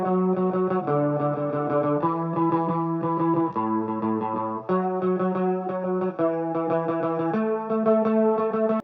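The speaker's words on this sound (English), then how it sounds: "we're going to lay out a basis for our guitar pattern that we are going to build on" A post-punk, new-wave guitar line produced in FL Studio, drenched in chorus and distortion, plays a repeating sustained chord pattern that shifts every second or so, thick, shimmering and steady with no voice.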